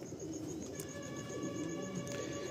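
A pigeon from Andhra, a male in a breeding pair offered for sale, coos in low rolling murmurs at close range over a steady background hum.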